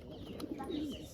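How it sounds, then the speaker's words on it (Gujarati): Pigeons perched in a rooftop setup, giving soft, faint cooing calls close by over a low steady background. "જો બેઠા છે કબૂતર"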